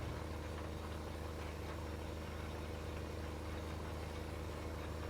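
A tractor pulling a seed drill through a field in Farming Simulator 15 gives a steady, unbroken engine drone with a low rumble, holding even in loudness for the whole stretch with no voices.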